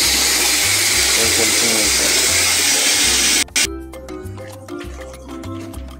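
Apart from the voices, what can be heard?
filling a bucket with water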